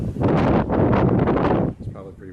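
Gusty sea wind on a Carnival Pride cruise ship cabin balcony buffets the microphone in loud, rough bursts for over a second, then eases off as a voice speaks quietly.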